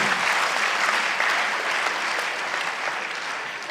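Audience at a spoken talk claps, a dense, even wash of applause lasting several seconds with no break.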